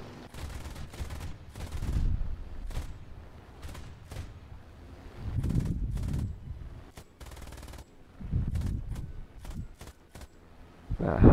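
Bursts of machine-gun fire in War Thunder, three or four loud rattling volleys separated by short pauses, with scattered single shots in between.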